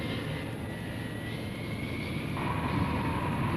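Military aircraft of Strategic Air Command taking off, a loud continuous engine roar that holds steady and swells slightly with a rising tone partway through.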